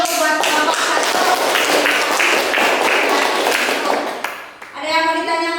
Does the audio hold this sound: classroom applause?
yes